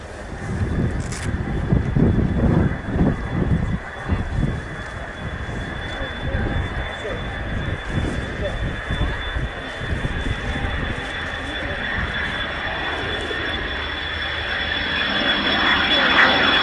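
A military jet roars past low and slow along the runway at the Royal International Air Tattoo at RAF Fairford, a loud sustained engine rumble with a high whine, joined by an announcer's voice early on.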